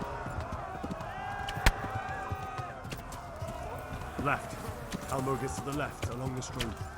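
Horse hooves clatter in the medieval game Kingdom Come: Deliverance, a run of rhythmic clip-clop beats that sharpen toward the end, set against busy game ambience and someone talking over them.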